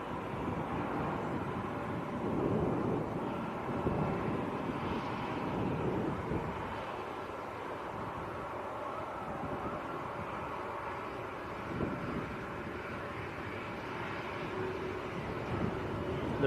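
A Lufthansa Airbus A321neo taxiing out at Manchester airport gives a steady, moderately distant jet-engine rumble with a broad windy hiss, holding fairly constant throughout.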